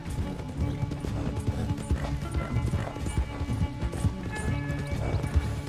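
Horse hooves gallop in Red Dead Redemption 2 with a steady, dense clip-clop that carries loud and continuous throughout under game music and ambience, with no talking.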